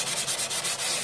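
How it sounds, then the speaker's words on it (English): Fine-grit sandpaper rubbed very lightly over old piano wood, a soft, close scratchy hiss swept back and forth in about six steady even strokes. "very lightly sanding it to get just some of that old dirt off"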